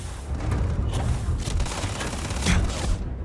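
Shotgun fire in Starfield: repeated heavy booming blasts in close succession, loud and dense, with mechanical clatter between shots and no talking.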